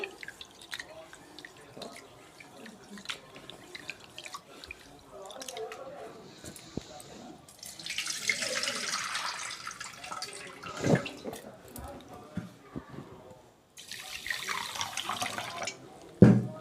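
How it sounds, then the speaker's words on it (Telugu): Little millets (samalu) being washed in water, faint sloshing, dripping and splashing in bursts with quiet pauses between, close but soft. "వీటిని శుభ్రంగా కడగాలి ముందు త్రీ టైమ్స్ శుభ్రం కడుక్కోవాలండి"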